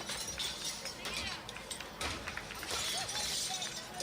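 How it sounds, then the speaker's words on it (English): Glass shatters and falls as looters reach through windows during a New York City protest, a dense crashing clatter of breaking panes heard under ongoing voices and street noise. "Glass is falling."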